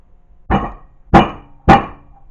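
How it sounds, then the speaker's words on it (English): A rifle butt is bumped firmly on a table three times, each a sharp, loud, close knock followed by quiet. "just give it a couple of firm bumps on the table"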